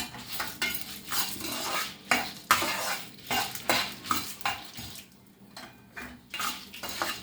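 Cumin seeds, coriander seeds and lentils dry-roasting with dried red chillies in a pan for an amla and drumstick-leaf spice powder, with a spoon scraping and stirring in a steady rustling rhythm throughout, close and moderately loud, with no one talking.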